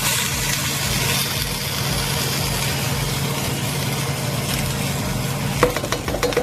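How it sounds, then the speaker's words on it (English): Corn kernels stir-frying in butter in a pan, a steady sizzle with scraping stir strokes over a low hum, and sharper clatters of the spoon near the end. "I'm going to stir it up. Get all the butter."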